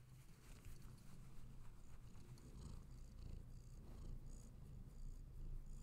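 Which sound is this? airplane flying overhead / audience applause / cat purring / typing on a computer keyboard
cat purring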